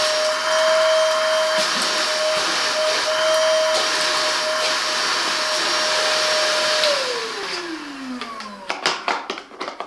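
A Hychika 18V cordless wet and dry vacuum runs with a steady high motor whine, then powers down, its pitch sliding lower before a few clicks and knocks near the end.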